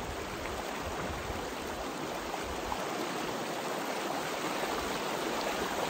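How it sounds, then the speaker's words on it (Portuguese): Water flows in the São Francisco River transposition canal, a steady broad rushing hiss heard from nearby with no voices. "o barulho das águas."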